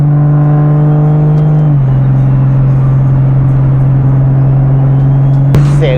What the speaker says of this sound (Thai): เสียงโทโบพี่